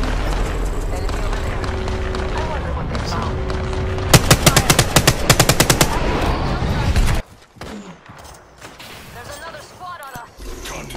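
Apex Legends gunfire crackles nearly nonstop, then a sharp run of rapid, evenly spaced shots stands out before the firing cuts off. Quieter thumps and shuffling follow, and players talk throughout.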